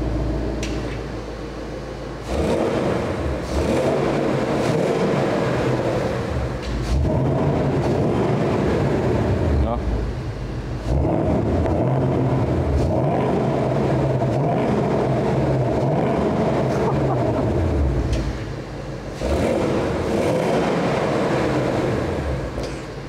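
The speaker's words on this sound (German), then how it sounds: "Klappe zu, hört man nur den V8." Ford Mustang GT with its 5-litre V8 and exhaust flap closed, a muffled low rumble that swells in repeated revving bursts with short dips between them, steady and fairly subdued.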